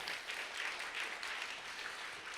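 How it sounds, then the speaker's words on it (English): Finalists at the ETHNewYork 2019 hackathon closing ceremony receive a round of applause from the crowd. It comes as a faint, distant, even patter of clapping throughout. "Let's get a round of applause again for our finalists."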